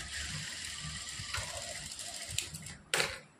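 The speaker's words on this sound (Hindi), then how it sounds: "पूरे फैब्रिक को हमने ऐसे ही फोल्ड करना है और पूरी मोरी पर हम इसी तरह से सिलाई लगा लेंगे" A sewing machine stitches the folded hem of an Afghani salwar, producing a quick mechanical clatter that runs on steadily, then ends in a few louder clicks and a final sharp burst before stopping.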